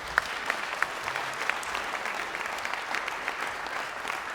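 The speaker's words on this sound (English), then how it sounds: "A wee round of applause wouldn't go off." An audience claps steadily and continuously at moderate volume, with a few sharper individual claps standing out from the crowd.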